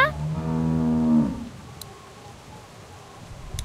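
A cow moos in a long, loud, close bellow for over a second in The Walking Dead video game, then fades into quiet ambience with faint clicks.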